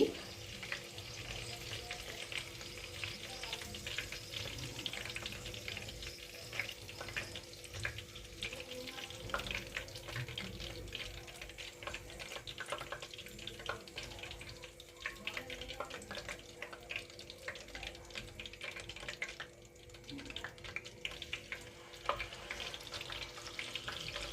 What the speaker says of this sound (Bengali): এইভাবে একই পদ্ধতিতে চিকেন স্যাটেগুলো ভেজে নিতে হবে।